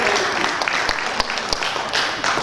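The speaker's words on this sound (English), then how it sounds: "Thank you for that clap and your warm" An audience at a certificate-giving ceremony applauds warmly, with a steady, full wash of many hands clapping together and a few sharper claps standing out.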